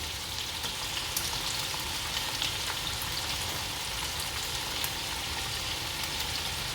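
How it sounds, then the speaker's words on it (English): Onions sautéing gently in a pan for an Indonesian stew, an even, soft, rain-like sizzle held at a steady level throughout, no speech. "Get all of my onions gently sauteed and translucent."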